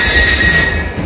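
The Vande Bharat Express high-speed train near Chennai runs with a loud, continuous rumble and a thin metallic whine, heard close and steady through a short stretch with no voices.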